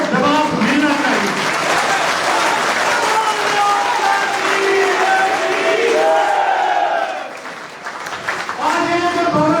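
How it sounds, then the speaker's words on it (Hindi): Loud crowd applause and cheering at an open-stage political rally with an MLA, many hands clapping steadily while voices shout and talk over it, briefly dipping before swelling again. "आपके तालियों से उनको जवाब मिलना चाहिए।"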